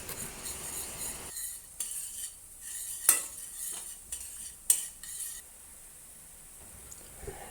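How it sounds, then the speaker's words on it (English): Chopped garlic and ginger sauté over low heat in a pan. A quiet sizzle sits under a few sharp clinks and scrapes of a utensil against the pan. "Also add the chopped ginger to the pan and saute along with the garlic."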